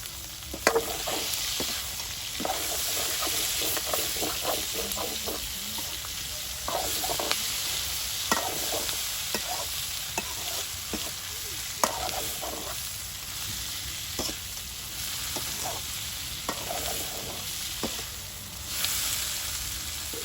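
Chopped onion sizzles steadily in a pan over an open village cooking fire, with a continuous hiss and repeated scraping stirs at irregular intervals throughout.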